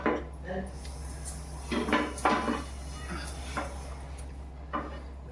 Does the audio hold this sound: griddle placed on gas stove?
yes